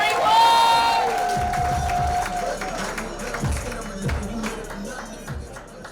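A comedy club audience cheers and whoops for comedian Corey White, a steady crowd roar with scattered claps and shouts, while a voice rings out over the start.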